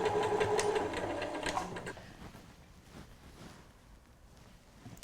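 Sewing machine running a close edge seam on fabric for a cushion, a fast even whirring stitch loud for the first two seconds, then stopping and leaving quiet room noise with small clicks.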